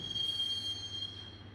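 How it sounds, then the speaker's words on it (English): Subway train riding through a station in the video game Max Payne, with steady metallic wheel squeal ringing over a low rolling rumble, continuous and close, no voices. "The train doors had already shut behind me, and I was in for the ride."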